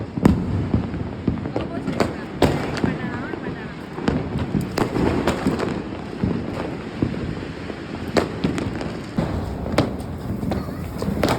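Diwali firecrackers burst repeatedly in irregular, loud cracks, some close and some farther off, over rumbling wind and background noise.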